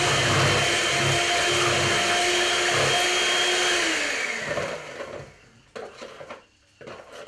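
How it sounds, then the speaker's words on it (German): An electric kitchen mixer runs at its highest speed, blending cake batter with milk, a loud steady whir for about five seconds before it switches off and only faint clattering remains. "Jetzt schalten wir den Mixer auf die höchste Stufe und lassen das Ganze kurz durch."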